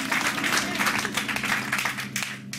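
A church congregation applauds the Lord, with dense, steady clapping that runs without a break at an even level over a low sustained tone.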